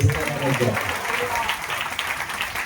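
A congregation at a Sunday church service claps together in a fast, dense burst while a preacher's voice carries over the applause.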